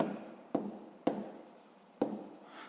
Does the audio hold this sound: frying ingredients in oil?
no